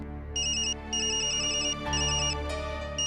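A telephone ringtone plays as a repeating electronic melody in short bursts with brief pauses between them, heard over a steady low musical background.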